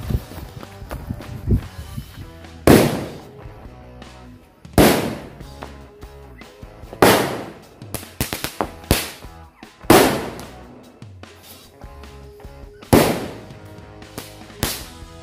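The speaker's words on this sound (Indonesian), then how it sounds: "selanjutnya kita nyalakan mercon super mini cake. Ini yang 9 letusan" A nine-shot super mini cake firecracker goes off at night during Ramadan, with sharp, loud bangs spaced a couple of seconds apart over crackling and rustling in between, close by and with no clear talk.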